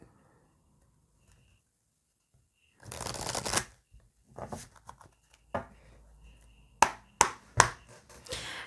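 Oracle cards are shuffled by hand after a few seconds of quiet: a riffling burst, then several short crisp slaps and flicks of the deck, close and fairly loud.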